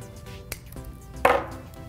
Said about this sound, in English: Now we just need to trim this end off a little bit.